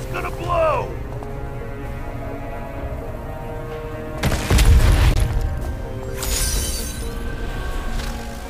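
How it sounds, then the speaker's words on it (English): A deep boom from an explosion in the mobile game Time Raiders blasts out midway, loud and rumbling, over a steady game soundtrack, with a short voiced sound just before. "Stay back! It's gonna blow!"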